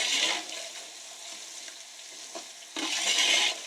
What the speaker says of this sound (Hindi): चूल्हे की आंच को हमने हाई रख के इसको हमने लाइट ब्राउन होने तक इसको हमने फ्राई करना है